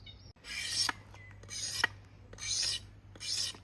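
Knife blade scraping the outer skin off a split bamboo strip, four rhythmic rasping strokes, close and steady over a low background hum, no voices.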